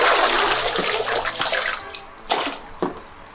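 Water rushes and splashes in a loud, steady broadband wash like a game waterfall, easing after about two seconds, with a couple of sharper splashes toward the end.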